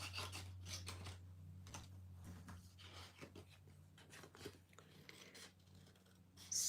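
Scissors snip through card with faint, close, repeated rasping cuts in irregular bursts while stamping cards are made.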